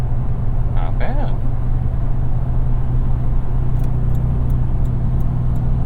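Steady road and tire drone from a Toyota Tundra on Kumho Road Venture AT52 all-terrain tires cruising a concrete highway at about 70, a continuous loud low rumble with a few brief faint clicks and a short voice-like chirp early on.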